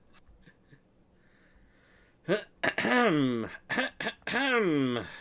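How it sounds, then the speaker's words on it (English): A brief cough-like throat clearing, followed by a few loud, drawn-out vocal sounds close to the mic. "Just clearing my throat for no particular reason."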